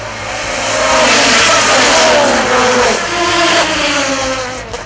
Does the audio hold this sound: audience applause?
no